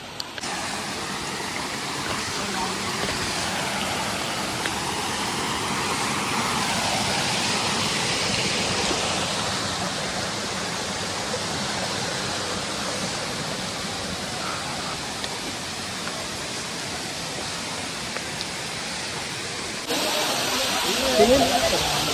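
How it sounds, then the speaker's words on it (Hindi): Chingrapagar waterfall in Gariyaband, Chhattisgarh, pouring as a steady, loud broadband roar of rushing water that fills the whole stretch, with a brief change near the end. "और देखो आप मन ये रहा है वाटरफॉल"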